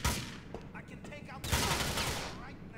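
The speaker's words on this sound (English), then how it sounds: "Where am I getting shot from?" Video game gunfire in GTA 4: a rapid fusillade of shots, a dense burst at the start, then a second loud volley after a brief lull, close and harsh.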